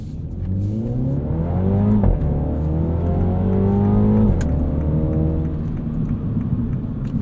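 A 2022 MINI Cooper John Cooper Works Convertible's engine drones steadily while driving, with rising revs through the gears and a brief dip at each shift, heard loud and close with no talk.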